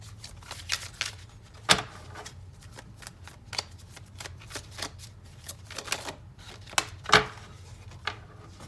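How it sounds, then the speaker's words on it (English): A tarot card is pulled from a deck: close, crisp papery flicks and rustles of card handling, with a few sharper snaps among steady quieter shuffling and no voice. "I'm going to pull out one more card"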